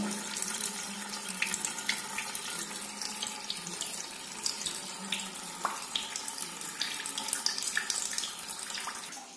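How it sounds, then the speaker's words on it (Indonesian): Water rushes steadily and forcefully into the tank of a TOTO American Standard seated toilet as it refills. The hiss and splash is constant and close, with no voices. "Nah, karena air langsung kencang. Nah, itu kelihatan. Itu udah masuk, dia udah mulai langsung isi bak."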